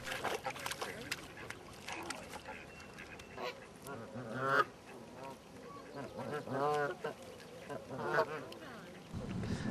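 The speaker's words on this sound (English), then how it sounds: "flocks of these Canada geese" Canada geese honk in a flock at a country park lake, a scatter of uneven calls rising and falling, some close and louder, with faint voices and background noise underneath.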